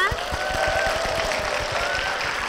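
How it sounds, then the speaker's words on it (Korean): Members of a Korean church congregation clap in a steady, rhythmic beat to welcome a deaconess to the front, with sustained tones ringing over the fairly loud clapping. "여러분 박수로 모시겠습니다"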